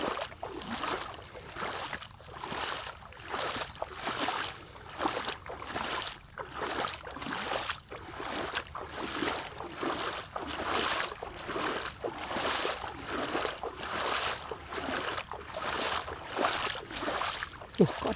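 Rhythmic sloshing and splashing as someone wades across floodwater, repeated steady strokes about every second, close by, with no talking.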